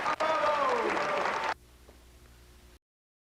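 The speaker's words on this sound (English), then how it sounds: "Why is there like all these white people that are very rich clapping?" A well-dressed audience on an old VHS magic-show tape applauds in a loud, brief burst with a tonal voice or music line over it, then cuts to a faint low hum before going silent.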